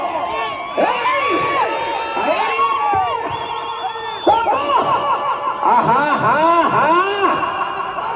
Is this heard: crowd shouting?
yes